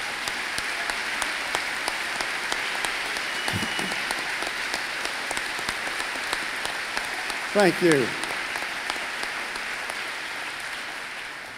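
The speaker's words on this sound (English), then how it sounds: "I'd like everybody right now to stand up and give the Urfer family a big round of applause" A standing ovation at a 2014 SMA graduation ceremony for the Urfer family: broad, steady crowd applause fills the whole stretch, with a brief spoken thank-you partway through.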